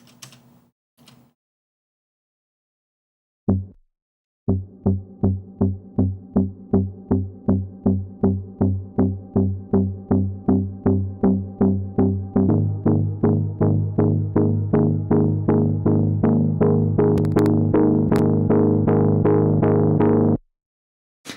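A contrasting chord progression built from two inverted chords, played as steady repeated plucked or keyed chords in an even rhythm for about sixteen seconds after a few short opening notes, with no voices.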